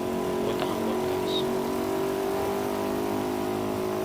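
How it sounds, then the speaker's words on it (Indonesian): A loud motorcycle drones steadily throughout at night in Ambon, a constant throaty exhaust roar with a steady hum, heard up close. "Untuk knalpot saya ini memang berisik sekali guys"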